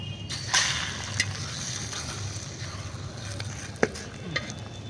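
Food sizzles steadily in hot oil in a pan, with a few sharp clinks and scrapes of a utensil stirring.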